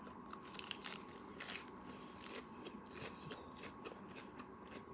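Crisp lettuce dipped in salad dressing being bitten and chewed, a close, steady crunching with repeated crackly bites over a soft background and no talking.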